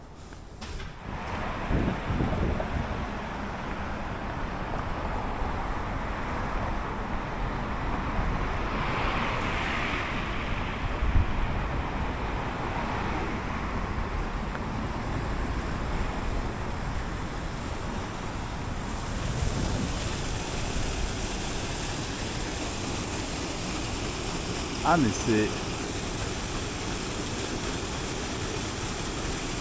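A river in China flows below, heard as a steady broad rushing roar mixed with wind buffeting the microphone, continuous throughout, with a brief spoken exclamation near the start.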